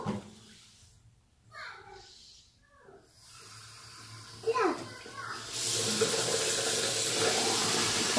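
Tap water runs into a sink in a home bathroom, a steady hiss that starts partway through and stays fairly loud. A small child and an adult talk over it.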